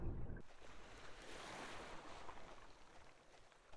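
Ocean surf in a haunted PS1-style game washes in as a steady, soft broadband rush of waves and wind that stays level and fairly faint throughout, with no voices.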